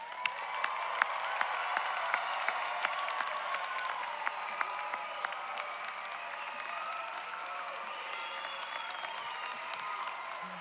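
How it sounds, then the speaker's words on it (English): Graduates at a commencement ceremony receive applause, a sustained field of clapping with scattered sharp individual claps and faint whoops and cheers rising through the crowd, moderately distant and steady throughout. "let's give them one more round of applause"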